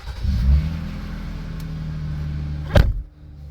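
A Jeep Gladiator or Wrangler with the 3.6 engine pulls away and drives, a steady close engine drone rising briefly at the start, with a sharp knock near the end before it quiets.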